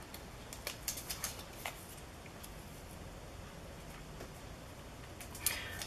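Scissors snip through overlapping paper at a craft table during collage work, a quick run of soft, close clicks and cuts in the first couple of seconds, then quieter rustling and one more crisp snip near the end.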